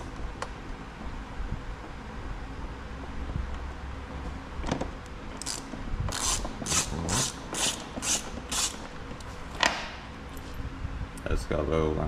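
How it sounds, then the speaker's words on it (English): Ratchet wrench loosening the 8mm head bolts on a CFMOTO belt drive cover, a quick run of rapid clicking bursts in the middle, with scraping and handling noises around it and a voice under it. "So we'll just rip this belt drive cover off. There's just 8mm head bolts around the outside of it."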